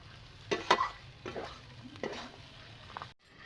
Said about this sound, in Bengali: ঢাকনা দিয়ে একদম লো আঁচে কম আঁচে এভাবে ভাজে নিতে হবে, তাহলে খুব সুন্দর মাংসটা সিদ্ধ হবে। নাড়াচাড়া করে নিতে হবে।